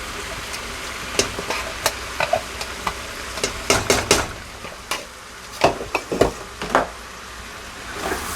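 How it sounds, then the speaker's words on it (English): Spatula stirring chicken borscht ingredients in a pot, a series of uneven scraping and clacking strokes, some sharp and loud, over a low background, with no talking. "Then you just stir all of that up."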